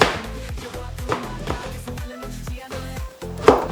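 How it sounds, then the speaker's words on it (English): Knife slicing radish matchsticks on a cutting board, a steady run of about eight crisp chops in an even rhythm, close and clear. "After cutting that up into matchsticks, I'm going to go ahead to slice that up."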